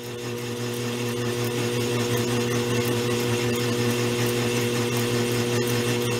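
A Goodell Pratt Model 494 lathe, shaky and loosely mounted on a bench, takes a facing cut on a piece of aluminum, giving a steady close mechanical whir with a constant tonal hum throughout.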